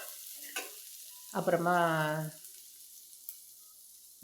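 A short burst of sizzling and stirring as onions and curry leaves sauté in a hot pan, rising for about a second, then fading; a brief voice is heard before it.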